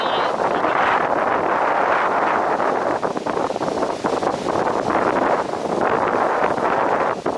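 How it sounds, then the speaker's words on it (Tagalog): Strong wind buffets the microphone on a hilltop summit outdoors, a loud continuous roar with gusty surges and dips throughout, no talking heard over it. "Grabe lakas ang hangin dito."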